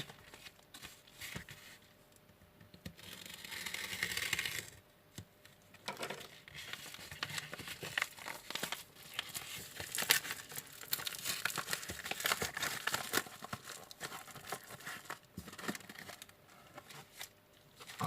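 A small AliExpress package holding a single transistor is torn open by hand, with close, quiet crinkling and rustling of plastic and paper wrapping, intermittent tearing and handling noises, and no one talking.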